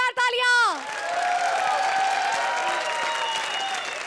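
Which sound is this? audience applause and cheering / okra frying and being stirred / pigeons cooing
audience applause and cheering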